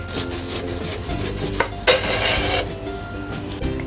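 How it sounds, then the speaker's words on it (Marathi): A medium-sized raw green mango is cut up close, with repeated scraping, rubbing strokes and a few sharper knocks on a hard surface, and no speech. "इथे मध्यम आकाराची कैरी घेतली आहे ती कापून घ्यायची"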